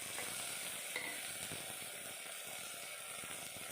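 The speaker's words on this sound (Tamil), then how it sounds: "சீரகம் பொரிஞ்ச உடனே கட் பண்ணி வச்சுருக்கிற சின்ன வெங்காயம், கருவேப்பிலை 2ம் ஆட் பண்ணிவிட்டு மிக்ஸ் பண்ணி விட்டுருங்க" Small shallots and curry leaves frying with cumin in hot oil give a steady, moderately faint sizzle with light crackles, continuous and without voices.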